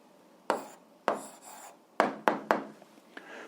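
A pen writing an algebra answer on paper in a quiet room: several short scratchy strokes in quick bursts, close and soft, with brief pauses between them.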